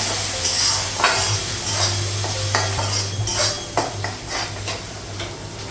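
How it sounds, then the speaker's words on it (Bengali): Spices and potatoes fry in a hot pan for a Bengali egg-and-potato lunch, giving a steady sizzle with repeated stirring scrapes and light clinks of a utensil against the pan, close up and without talk. "মশলাটা একটু দিয়ে দেবো, তারপর আলুটা লাগাবো।"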